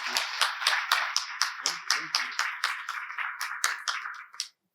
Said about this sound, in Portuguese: Uma salva de palmas ao doutor Wellington Queiroz